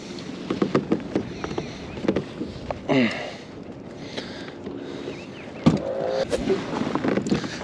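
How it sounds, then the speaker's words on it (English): A fishing kayak paddled slowly along while trolling on a drained lake, giving close, irregular paddle splashes and drips with knocks against the hull, alone with no talk. "just slowly paddling along through here"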